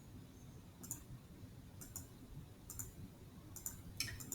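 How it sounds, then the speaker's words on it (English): Calculator keypad buttons pressed as numbers are entered, a few crisp isolated clicks spaced about a second apart, then a quicker cluster near the end, faint over a low background hum. "You press enter after every number you type in."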